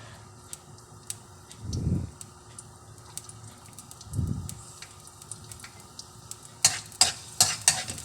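Garlic fries in cooking oil in a pan that is not yet fully hot, with a soft steady sizzle, two low stirring scrapes, and a few sharp utensil taps near the end.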